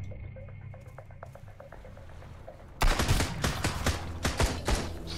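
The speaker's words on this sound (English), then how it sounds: "they have a machine gun." Bandits firing a machine gun in the survival video game Sunkenland, sparse clicks at first, then a sudden loud stretch of rapid, dense automatic bursts that continues to the end.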